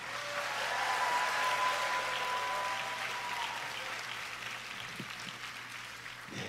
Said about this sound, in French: Applaudissons à nouveau chaleureusement pour Madame Jeon Won-ju McDavid.